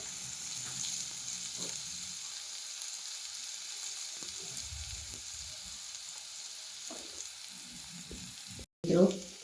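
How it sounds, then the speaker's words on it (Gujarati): Finely chopped onions sauté over medium heat in a pan for cucumber paratha, making a steady, moderate sizzle with soft stirring scrapes and a brief thump at the end. "ડુંગળીને થોડો કલર ચેન્જ થાય ત્યાં સુધી આપણે થોડું સાંતળીશું"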